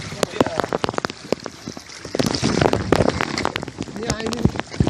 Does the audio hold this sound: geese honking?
no